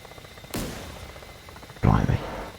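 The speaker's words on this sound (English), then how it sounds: "now that sound, I think is someone shooting at us," Gunfire aimed at an aircraft in a flight-sim video game, two separate bursts: a short sharp crack near the start and a louder, denser rattle about a second later, both over a steady engine drone.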